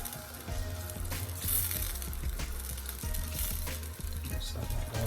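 Sweet and sour sauce with onion and sweet pepper being stirred in a hot pan, a steady close sizzle with soft scraping and clinking of the utensil throughout.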